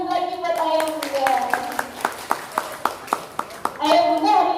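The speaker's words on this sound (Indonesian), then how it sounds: "Oke, tepuk tangan lagi buat ayah bunda." An audience of parents at a parenting seminar gives a round of hand clapping, starting scattered and building into steady claps, with a presenter's voice talking over the start and the end.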